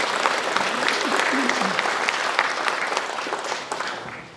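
A seated crowd of residents at a town-hall meeting gives a big round of applause for the Sejong city mayor, steady dense clapping that slowly fades, with a voice speaking over it.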